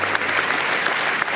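Dense, sustained applause from a crowd honouring elderly veterans at a Normandy D-Day anniversary ceremony, loud and close with steady clapping throughout.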